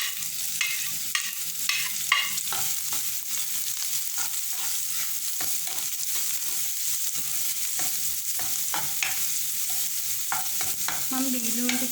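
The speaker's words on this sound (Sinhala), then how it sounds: "මම බීලුණු ටික මේ විදිහට කලවම් කරලා ටිකක් සෙත ගතිය අඩු වෙනකම් මැලවෙන්න තියාගන්නවා" Finely chopped onions stirred in a frying pan for a short-eats filling, a steady close sizzle of hot oil broken by repeated scraping strokes of the spoon against the pan.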